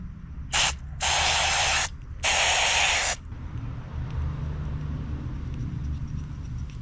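Throttle body and carb cleaner sprayed onto a Subaru idle air control valve: one short hiss followed by two longer pressurised blasts, close and loud, then quiet room noise.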